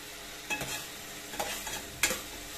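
Hot oil sizzles faintly in a pan as olive oil is drizzled in while cooking mung beans. A few soft crackles and stirring touches sit over a steady low hiss, with no talking.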